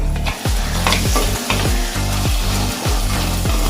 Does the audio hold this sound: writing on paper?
no